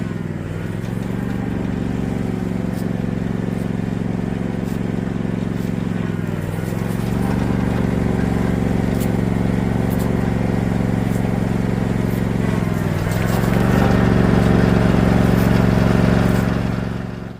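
Riding lawn mower used to carry fertilizer, its engine droning steadily and loudly up close for the whole stretch, with two brief dips in pitch as the load or throttle changes.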